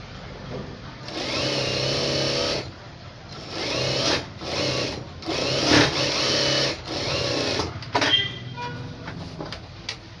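A sewing machine stitches a lined blouse in several close, loud bursts of rapid whirring separated by short pauses, ending with lighter handling clicks and no talking.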